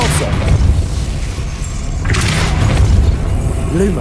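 A Depulso spell cast in the video game Hogwarts Legacy, heard as a loud booming thud with a burst of rushing force, followed by a second heavy surge under ongoing game ambience.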